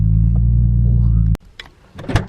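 A Nissan Skyline R33 engine idles loudly up close with a deep throbbing rumble, then cuts off abruptly, leaving quiet clicks and faint movement afterward.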